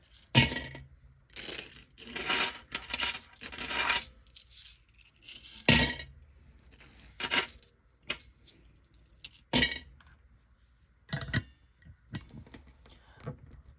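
Loose coins are dropped into a jar a few at a time, giving repeated sharp metallic clinks and short jangling bursts spread irregularly over several seconds, close and fairly loud.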